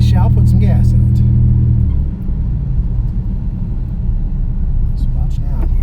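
A 1995 Dodge Stealth in stock form, revived after years of sitting, drives with a loud, steady low engine drone that drops after a couple of seconds into a lighter cruising rumble, heard from inside the car.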